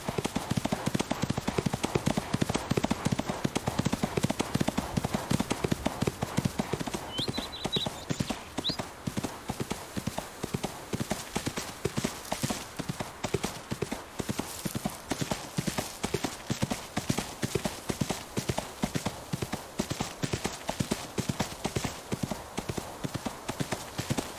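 Horse hooves clip-clop in the video game Ostwind, a continuous, even trot of sharp hoof strikes lasting over twenty seconds, with a brief whinny early on and a voice talking faintly now and then.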